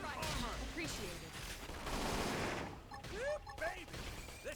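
Gunfire and combat effects in the video game Xenoblade Chronicles X, a burst of rapid loud shots and impacts layered with whooshing ability sounds and game music.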